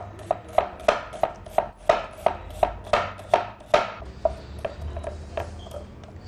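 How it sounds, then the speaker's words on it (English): An onion being cut into thin slices on a board, a steady run of about fifteen crisp knife chops at an even rhythm, close and clear with no talking. "I'll start cutting my onion up, cutting them up in thin slices"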